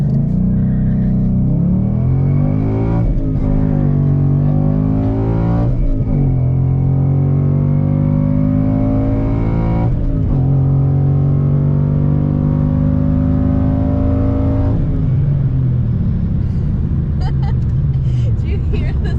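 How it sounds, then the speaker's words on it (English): Tuned new car running flex fuel, engine droning and rising through repeated full-throttle pulls while the tires spin, a loud steady roar with shifting pitch between gear changes. "Do you hear the squealing? Yeah, the tires are spinning."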